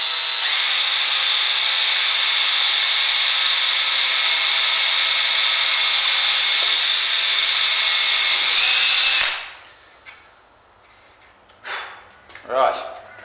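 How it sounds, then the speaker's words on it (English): A power drill bores a small pilot hole for HO scale model railroad work, a steady loud whine running about nine seconds before stopping, followed by a few faint handling noises. "Use a pilot hole first. Always start off with a small drill."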